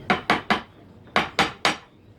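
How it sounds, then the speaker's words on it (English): A hammer tapping a gun barrel into its wooden stock inlet, six sharp close knocks in two quick groups of three, with short gaps between and no talk. "Don't tap the hammer on it, just tap it a little bit."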